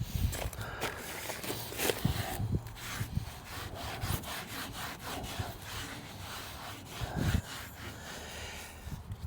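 Steel wool scrubs the chrome bumper of a 1955 Chevy in repeated rough strokes, a close, gritty rasp with uneven bursts and pauses.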